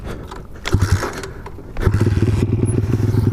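A motorcycle is kick-started, giving clunks and scraping from the kick lever before the engine catches and settles into a close, loud, rapid idle putter.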